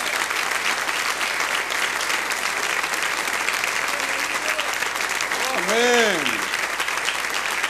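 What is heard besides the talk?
applause in church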